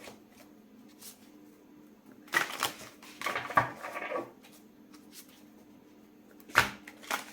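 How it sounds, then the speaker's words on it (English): Tarot cards shuffled by hand, quiet riffling bursts and soft slaps coming in irregular clusters with pauses between, close and faint against a low background hum. "Oh my god, I'm shuffling so badly."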